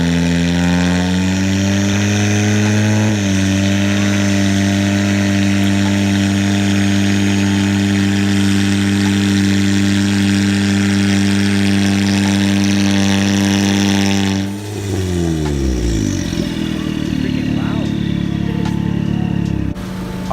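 A turbocharged Honda Civic engine held at a steady high rev on a dyno, loud and droning, stepping up in pitch early on, then dropping abruptly and settling lower near the end.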